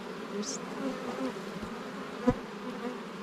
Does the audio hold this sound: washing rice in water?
no